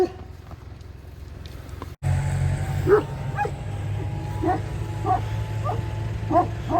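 Dogs bark in short repeated bursts from a moderate distance, a few yips and woofs spaced across the clip over a low steady rumble.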